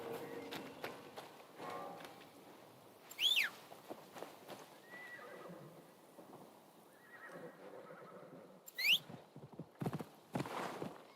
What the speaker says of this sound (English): We also need to find the horse.